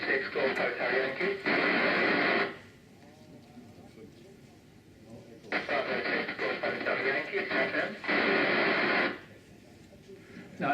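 Amateur radio moonbounce (EME) signals in a station near Goonhilly: two bursts of hissy, noisy transmission with faint delayed echoes between them, while an operator speaks call signs over the radio.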